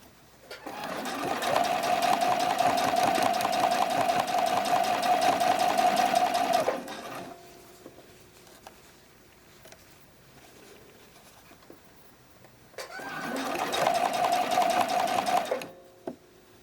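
Sewing machine running up close while stitching the cradles of a bralette, one long steady burst of about six seconds, a quiet pause, then a second shorter run.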